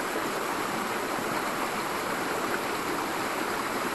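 Water in a stream rushes past rocks near a rock shelter, a constant close hiss of flowing water, steady and unbroken throughout.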